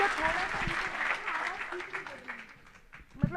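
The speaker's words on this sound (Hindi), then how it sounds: "एक बार मुझे ताली बजा करके आदेशित करें" Audience applause at a Hindi kavi sammelan poetry gathering: a steady wash of clapping from a crowd, moderately loud, continuing for a few seconds with a voice briefly audible near the end.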